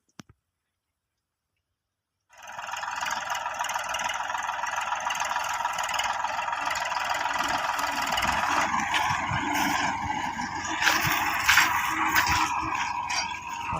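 A tractor engine starts after a short silence and then runs steadily in a sown cumin field, a loud, continuous mid-pitched rumble with a slight rough knocking edge and no voices.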